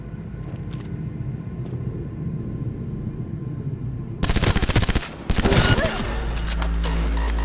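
Gunfire in the video game Cyberpunk: a low ambient rumble, then loud, dense bursts of rapid automatic shots near the end, with a brief gap between two volleys.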